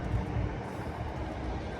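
A low, steady rumble of a train to central London rolling past at a distance, with no voices.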